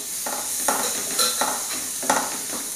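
Tomatoes sautéing in a pan with chili powder for a cabbage egg fry make a bright, steady sizzle, punctuated by three or four rhythmic stirring scrapes, close and loud without speech.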